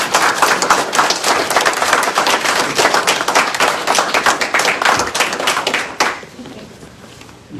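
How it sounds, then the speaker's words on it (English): An audience at a Church Hill city meeting claps loudly and continuously for school conference and regional champions. The dense applause stops abruptly near the end, leaving a quiet room. "Let's give them a round of applause."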